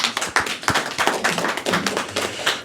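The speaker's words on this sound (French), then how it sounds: "On va les applaudir encore une fois de plus." A small audience claps at a Christmas and year-end party, a loose patter of handclaps that is fairly close and carries on steadily throughout.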